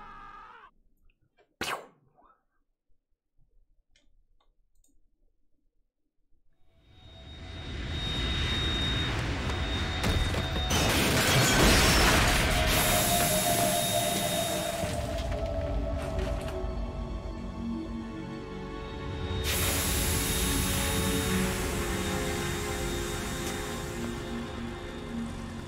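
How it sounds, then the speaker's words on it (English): Helicopter noise from the video game Metal Gear Solid 2 rises after several seconds of near silence into a loud, steady mechanical roar that swells again later, with a brief sharp burst near the start. "Move, helicopter."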